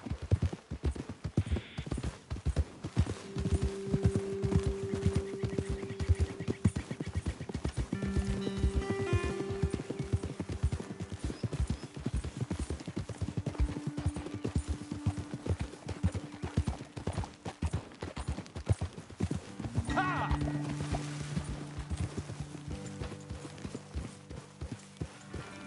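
Horses gallop on and on in Red Dead Redemption 2, their hooves clip-clopping in a fast, steady rhythm with an occasional whinny, and a low tonal backdrop runs underneath.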